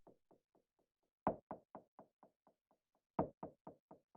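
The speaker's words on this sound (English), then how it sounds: "the operator percussion sounds like this" A synthesized percussion hit built from white noise with a short envelope in Ableton's Operator, played for minimal tech house: short dry knocks in a quick repeating pattern, each run starting loud and fading, with no voices.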